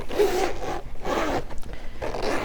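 A bag zipper is pulled closed in three quick rasping strokes, close and clear, with no talking.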